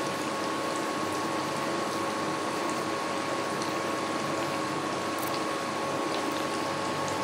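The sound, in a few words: cabbage pakora frying in hot oil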